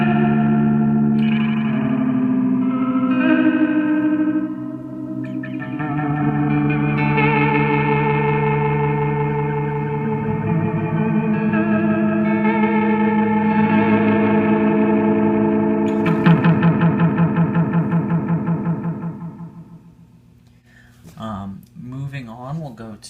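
A TC Electronic Alter Ego V2 delay pedal with the feedback set high produces sustained guitar notes. Repeating echoes build and smear together before the sound fades out near the end.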